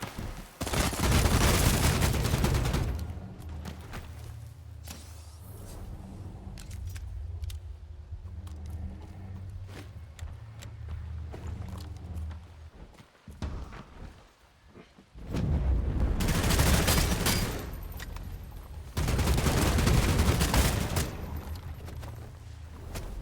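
Loud, dense bursts of AK rifle fire from the vampire battle royale game Blood Hunt, with one long volley at the start and another heavy stretch near the end, separated by quieter in-game ambience.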